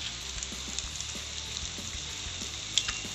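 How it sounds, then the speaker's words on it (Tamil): Eggs cracked and poured into Maggi noodles in a hot pan, a faint steady sizzle with soft scattered pops and one small sharp click near the end. "பாருங்கள் முட்டையை உடச்சி இதிலே ஊற்றிக்கலாம்."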